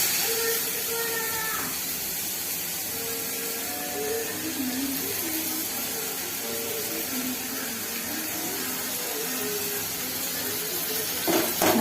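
Tomatoes added to a hot pan while frying quail masala give off a steady hiss and sizzle that runs unbroken, with a faint voice underneath at moments.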